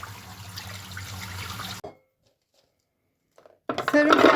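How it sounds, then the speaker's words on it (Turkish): Peeled garlic cloves are rinsed under running kitchen tap water and drained, a close splashing rush that stops abruptly into near-silence, then resumes loudly. "Soyduğum sarımsaklarımı tekrar böyle sudan geçip geçirip süzdürüyorum."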